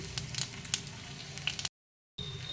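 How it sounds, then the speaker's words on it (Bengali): Nigella seeds tempering in hot oil in a pan, a soft crackling sizzle with small popping ticks, close and quiet, briefly cut to silence before resuming. "তেল গরম হয়ে গেছে তো কালো জিরে ফোড়ন দিলাম"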